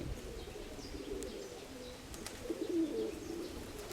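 A racing pigeon, ring number five, coos in a loft, low soft repeated coos close by with faint chirps and rustling in the background.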